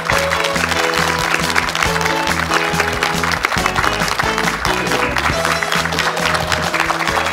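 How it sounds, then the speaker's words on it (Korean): A studio audience on a KBS morning talk show applauds to welcome a guest speaker, steady dense clapping filling the room over music that plays throughout. "박수로 환영해 주시면 고맙겠습니다."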